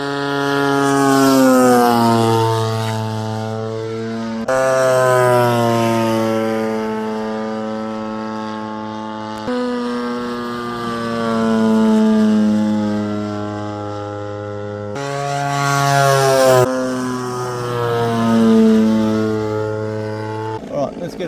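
RC aircraft powered by an EPHIL 76cc twin-cylinder electric-start engine flying at an RC club field, its engine buzz rising and falling in pitch as it makes repeated passes, loud near and fading farther away.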